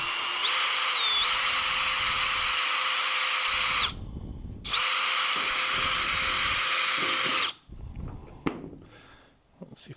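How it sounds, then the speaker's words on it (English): A power drill bores through an aluminum sandwich roof panel in two loud, close bursts of high steady whine, with a brief pause between them and rustling handling noise after. "I've slid the panel away, so I can plenty of room to drill right through"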